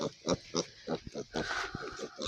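Tame piglets grunting close by in a rapid series of short, soft oinks and snorts, some overlapping, with a brief voice mixed in.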